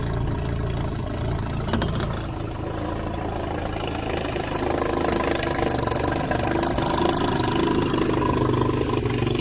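An outboard boat engine runs steadily at idle, a continuous low rumbling drone with a slight rise in revs partway through, no voices.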